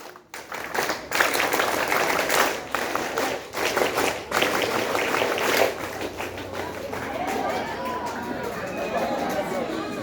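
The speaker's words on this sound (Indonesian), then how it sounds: "Tepuk Pramuka." Assembly at a Scout anniversary ceremony performs the rhythmic Pramuka clap, sharp grouped bursts of many hands close by, giving way to crowd chatter and scattered noise.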